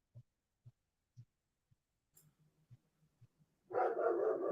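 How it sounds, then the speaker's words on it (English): A neighbour's dog next door gives a series of short, evenly spaced low thumps and barks, muffled and faint through a wall, before a louder burst of broadband noise at the end. "the dog next door wants to chime in a little bit"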